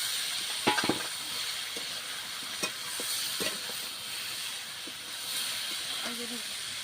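Malabar spinach stems sautéing in a pan for a home-style Bengali curry, a continuous soft hiss and sizzle with scattered scraping stirs and clinks, and a brief voice near the end.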